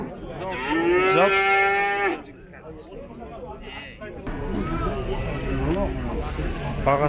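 Cattle at the livestock bazaar in Zharkent give one long, loud moo, followed by a murmur of people talking and trading over the busy market background.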